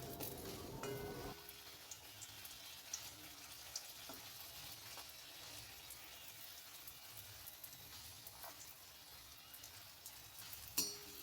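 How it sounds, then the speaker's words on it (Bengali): Parathas frying in a pan of oil, one after another, give a steady soft sizzle with light crackle throughout, plus a few faint clinks and a brief louder scrape near the end. "একে একে আমি সব পরোটা ভেজে নেবো"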